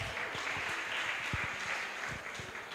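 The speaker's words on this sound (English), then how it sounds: "let's clap as they go back." An audience claps steadily at a parliament-style session, a continuous roomy patter of many hands at moderate distance with no voices over it.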